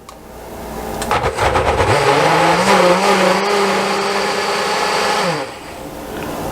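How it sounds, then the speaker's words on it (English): A blender purees tomatoes for a homemade sauce, its motor spinning up after about two seconds into a loud, steady whir with a rattling chop that holds, then dips sharply near the end. "I actually have decided to process this in my blender rather than the food processor, because I really want this pureed real well"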